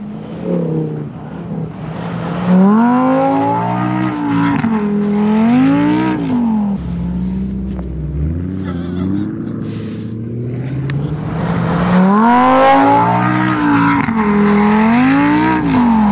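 Lamborghini supercars drive on ice in Canada, engines revving hard in rising and falling wails, fading back and then roaring close again as they accelerate through slides on the frozen track.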